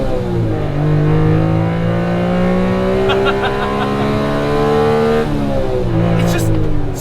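Honda Civic Type R EK9 with an aftermarket catback exhaust accelerating in first gear, its engine note rising steadily in pitch, dipping at a shift near the end, loud and close and heard alone.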